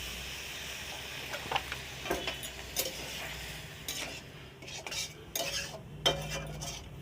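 Curry with paste being stirred in a pan, with prawns added. Utensil scrapes and clinks recur at an uneven rhythm over a faint sizzle, heard close with no talk.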